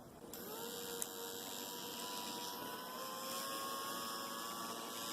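A Philips Norelco QT4070 beard trimmer runs after a repair with its screws removed, giving a steady close motor whine and buzz that holds for several seconds with no talk.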